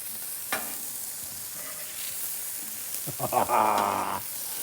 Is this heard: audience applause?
no